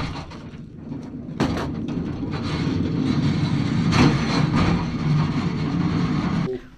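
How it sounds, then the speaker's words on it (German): Heavy mine wagons, each up to 1000 kilograms, pushed by hand along rails underground, giving a continuous loud rolling rumble with clanks and rattles that swells and holds before dropping off at the end. "Sie bewegen die Waggons nur per Muskelkraft."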